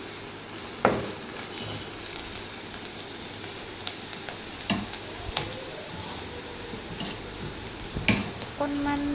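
Onions frying in a pan for an Assamese-style dal, a quiet steady sizzle with scattered scraping and clinking taps of a spoon stirring against the pan.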